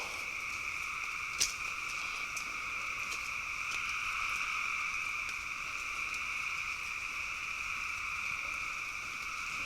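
Frogs croak at night outdoors, a dense steady chorus of high buzzing calls holding level throughout, moderately distant, with a faint click or two and no talking.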